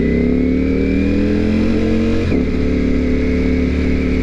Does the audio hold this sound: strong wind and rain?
no